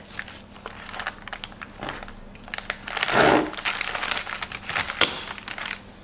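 A dates and carrot cake being cut: close crinkly crumbly rustles and soft scraping of a knife through moist crumb, with a louder crunch midway, no speech.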